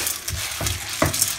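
Corn kernels frying in burnt butter for caramel popcorn, stirred in the pan: a loud, close, continuous sizzle broken by scraping stir strokes.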